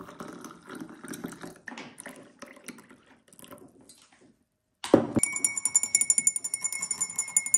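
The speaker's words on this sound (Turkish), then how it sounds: "üzerine 200 mililitre kaynar su ekleyeceğim" Boiling water poured into a glass, a trickling, clinking pour near the microphone, then a pause before a brighter ringing splash and a run of rapid, bubbling, clinking sounds.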